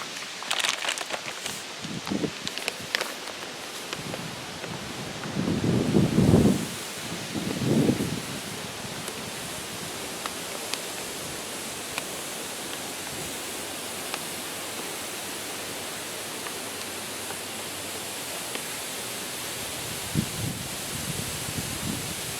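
Sand pours slowly into a pool pump filter for a stock tank pool, a soft steady hiss with a couple of louder rushing bursts near the start, then a long even trickle.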